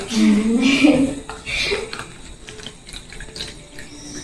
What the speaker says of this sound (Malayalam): അപ്പൊ നമുക്കൊരു വെള്ളം ഒഴിക്കാം